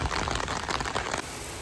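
Heavy rain pours down in a steady broadband wash during hot summer weather in Germany, dense and close, then eases into a slightly softer, even patter.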